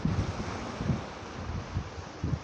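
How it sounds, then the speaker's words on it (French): Wind buffeting the microphone over the wash of ocean waves breaking on the shore, with a broad steady roar and soft low thumps recurring every second or so. "entre le vent et le bruit des vagues, ou la musique des vagues"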